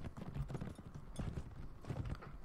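A horse in Mount & Blade: Fire and Sword gallops in a quick, steady clip-clop of hooves, fairly quiet and close, with the rhythm running the whole time.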